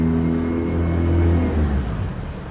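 An 18-foot Jetcraft boat's engine pushed to full throttle, a loud close rumbling roar that climbs steadily in pitch as it revs, then eases off slightly at the end.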